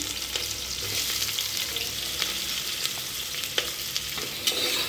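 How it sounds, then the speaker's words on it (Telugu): Onions, curry leaves and green chillies sizzle and crackle in hot oil for a Telugu drumstick and coconut curry, a dense, constant frying hiss with small pops throughout and no talking. "ఆయిల్ కొద్దిగా కరివేపాకు పచ్చిమిర్చి అలాగే ఉల్లిపాయలు కూడా వేస్తున్నాను"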